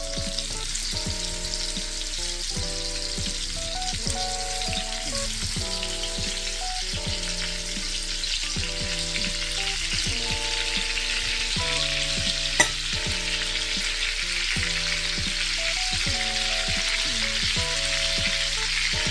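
Chunks of goulash meat browning in a hot pot give a steady, loud sizzle throughout, with faint stirring and scraping and a regular rhythmic tapping pattern underneath, and no talk.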